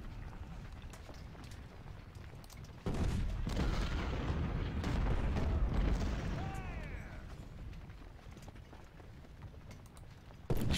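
Artillery battery fire in an Ultimate General Civil War battle, a dense wash of booming cannon and gunfire rumbling continuously through the middle of the clip, with fainter shots before and after.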